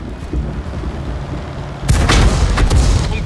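A tank cannon fires in the online game World of Tanks, giving a sudden loud boom partway through with a rumbling tail, over steady engine and battle background noise.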